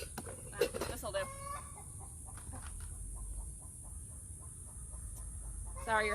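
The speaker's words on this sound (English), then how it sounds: "Sorry, you're having to listen to my chickens and their egg laying song." Free-ranging backyard hens singing their egg-laying song, a series of loud, rhythmic clucks and squawks over a steady high-pitched hum from the surroundings.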